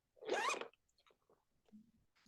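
Single quick zipper pull on a storage bag holding cosmetic testers, fairly quiet and close, followed by faint soft handling clicks.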